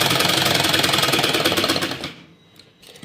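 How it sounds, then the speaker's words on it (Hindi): A sewing machine stitches shirt fabric at a corner, a fast, steady mechanical rattle running loud and close for about two seconds before stopping, followed by faint handling of the cloth. "इस तरह से हमें कॉर्नर पर मिलाते हुए इस तरह से हमें सिलाई लगानी है"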